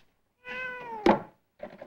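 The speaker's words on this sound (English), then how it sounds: "Hey, Kitty. You hungry?" A pet cat lets out a clear drawn-out meow, then a short sharp bump follows and a second, shorter mew comes after a pause, all close and alone in a quiet room.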